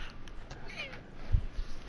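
A cat gives a short, faint meow once, close by, briefly rising then falling, followed by a low thump.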